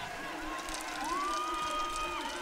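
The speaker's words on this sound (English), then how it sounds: "As you can hear, the crowd liked that one." A crowd cheers at a para swimming medley race at the Santiago 2023 Parapan American Games, making a steady, dense roar with a thin whistle rising through it, with no clear peaks or breaks.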